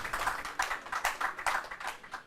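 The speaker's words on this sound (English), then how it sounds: "A round of applause for KAAF University." An audience at a university law quiz competition applauds, a steady patter of hand claps with rhythmic swells, moderately close and continuous, with no voices over it.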